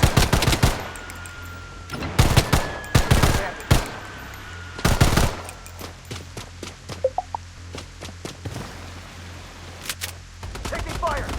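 Gunfire in the video game Blood Strike comes as loud, close bursts of rapid automatic fire, followed by sparser single and short volleys of shots.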